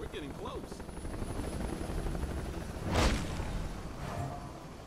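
Helicopter in the Marlow Briggs action video game, a steady rotor drone running throughout with a louder whooshing swell near the middle, mixed under game sound.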